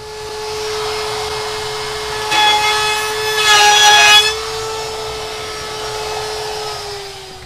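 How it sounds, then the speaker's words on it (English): A hand saw cuts off part of a segmented wooden turned mug, giving a couple of seconds of close, rasping strokes over a steady workshop machine hum. "I'm gonna saw off this part so I could get this edge a lot cleaner."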